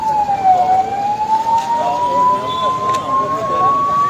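An ambulance siren holds a steady tone that slowly rises in pitch, fairly close, with people talking in the background.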